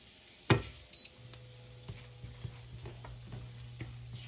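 Vegetables sauté in garlic butter in a pan: a sharp clatter of food dropping in, then a soft, low sizzle with scattered light utensil scrapes and taps, and no voices.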